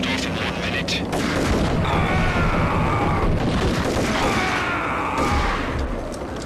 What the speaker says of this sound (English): Someone tried to fire a grenade launcher at me